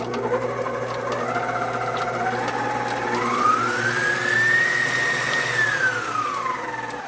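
Stand mixer beating butter on a slow setting for an Oreo pound cake, a steady motor whine with a rising and falling pitch over a low hum, close and continuous.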